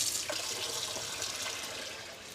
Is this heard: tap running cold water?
yes